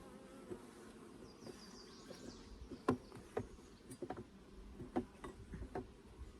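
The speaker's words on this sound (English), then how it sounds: "And I already got some bees coming up and checking out the new foundations." Honey bees buzz around a hive as they come up to inspect new natural wax foundation frames, a soft steady hum with faint ticking and clicking close by, no talk.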